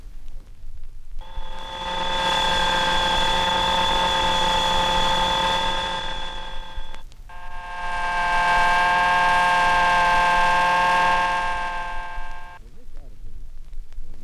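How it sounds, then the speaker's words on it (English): A 1962 Vickers hydraulic pump whines steadily and loudly, first with its relief valve chattering, then after a short break with another valve operating normally, as a continuous tonal drone. "Here is the sound of a pump with a chattering relief valve,"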